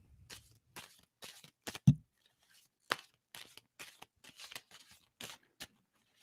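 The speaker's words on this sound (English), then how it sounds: "tell me when to stop shuffling" A deck of playing cards is shuffled by hand in quiet, close riffles and snaps that come in short irregular bursts with brief pauses between.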